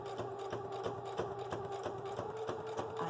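Sewing machine quilting a Celtic quilt square, taken slowly around bends: a steady rapid mechanical stitching rhythm with a constant motor whine, close and fairly quiet, with no talking.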